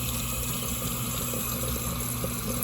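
Tap water runs steadily into a bowl of rice being washed in a home kitchen, a continuous hissing gush that holds even for the whole stretch.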